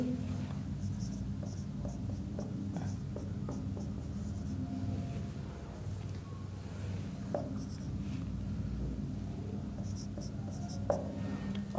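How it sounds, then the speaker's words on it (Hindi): Marker writing out reasoning questions on a board during a classroom lesson, a steady soft scratching and tapping over a constant low room hum, no speech. "मैं कुछ क्वेश्चन और लिखता हूँ फटाफट।"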